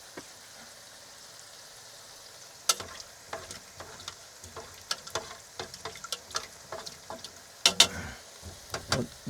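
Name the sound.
food frying in an aluminium pan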